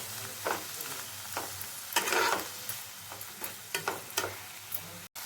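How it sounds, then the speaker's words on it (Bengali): Chopped onion and small prawns fry with salt in a pan for a prawn and cucumber curry. A soft, steady sizzle is broken by repeated scraping stirs of a spatula, with no talk. "এখন নুন দিয়ে এই পেঁয়াজ আর চিংড়ি মাছগুলোকে একটু ভেজে নেব"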